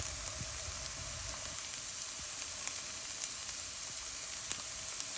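Spinach frying in a pan just after chili powder is stirred in, a steady dense sizzle holding even throughout with faint scattered pops and crackles, close and unbroken, no voices.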